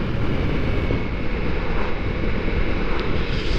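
Heavy wind noise buffets the rider on a Ducati Multistrada V4S motorcycle at speed, a loud, dense, continuous roar with the engine blended underneath and no talking.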